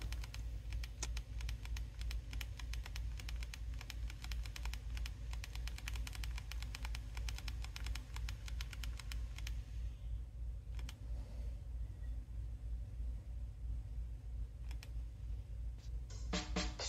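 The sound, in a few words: typing on a touchscreen phone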